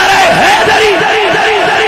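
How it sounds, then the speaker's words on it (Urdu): Large crowd at a Milad-e-Mustafa religious gathering shouting the Haidari slogan in unison, a loud, sustained roar of massed voices with rising and falling pitch filling the whole moment. "جناب یہ حیدری کا نعرہ یہ ندائے محبت ہے"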